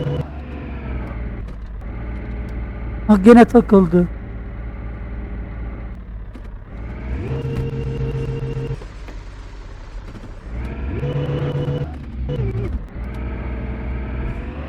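A car engine in the video game Dating Simulator hums and revs in repeated surges, loud and close. The engine rises and falls in several steps, with a short burst of a voice in between.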